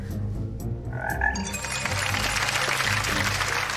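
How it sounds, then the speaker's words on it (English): Frogs croaking: dense, loud chorus of rasping croaks that swells and keeps going throughout, with no talk. "They love the sound of their own croak."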